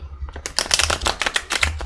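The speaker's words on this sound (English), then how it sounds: "So I might just shuffle it again just the other way." A deck of tarot cards is riffle-shuffled up close, a dense fluttering burst of crisp card snaps that follows a few quieter handling taps, with no talk.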